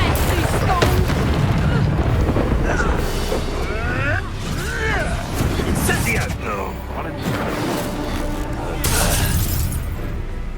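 A Confringo fire spell bursts in Hogwarts Legacy with loud booming blasts and crackling debris, mixed with game music and a character's voice talking over the action.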